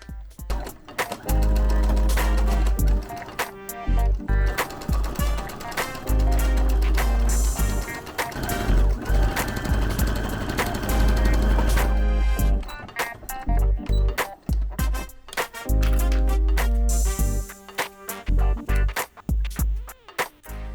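A sewing machine runs in bursts of rapid stitching while closing the bottom seam of a beginner-pattern bell bag, with short pauses between the loud, steady buzzing runs.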